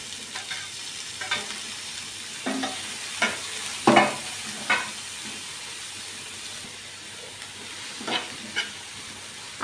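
Onion and tomato frying in a pan for an egg curry gravy, a low steady sizzle broken by repeated scraping strokes of a spatula stirring the mixture.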